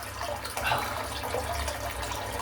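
Warm tap water runs steadily while a razor is rinsed under it, a close, continuous splashing hiss with small surges and drips.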